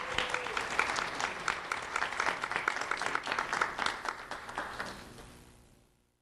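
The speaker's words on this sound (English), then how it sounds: "Let's have a round of applause for Esther Gould." A round of applause at a sheriff's office ceremony, steady clapping from a seated crowd that swells briefly then tapers off and fades away.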